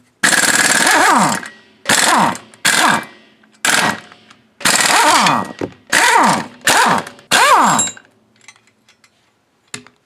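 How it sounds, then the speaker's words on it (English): A pneumatic air impact gun removes 14mm bolts from a Subaru flywheel plate, firing about seven loud, close rattling bursts of one to one and a half seconds each, separated by short pauses, then going quiet with faint clicks. "it's held on by 14mm bolts, and I'm going to use a air gun to remove those"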